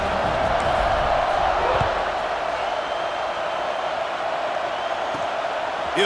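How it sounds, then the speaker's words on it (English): Steady stadium crowd buzz from the College Football 26 video game, a broad continuous roar with murmur and faint cheers, loud and constant throughout with no speech. "this crowd is buzzing after that last score"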